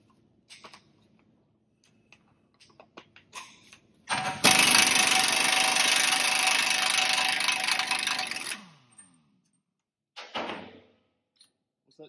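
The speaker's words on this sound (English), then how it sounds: "you usually want to use an impact wrench to get them loose" Impact wrench loosening a large, tight CV axle nut on a Chevrolet Suburban, one loud sustained burst of hammering lasting about four seconds amid quieter shop clatter, followed by a short later rattle.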